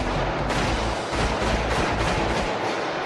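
Revolvers being test-fired repeatedly at a gun factory produce a loud, continuous barrage of overlapping shots, harsh and dense, with echoing blasts running together and no voices.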